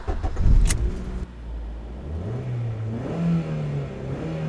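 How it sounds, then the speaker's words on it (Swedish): A petrol car engine gives a short loud burst, then drops to a lower running note and revs upward in rising, fairly close swells with no talk over it. "det är schysst motorljud"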